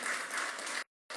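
A church congregation applauding a newly married couple, a short burst of dense clapping that cuts off abruptly into silence before resuming briefly.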